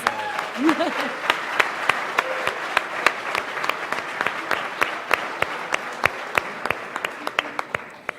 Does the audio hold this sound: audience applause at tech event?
yes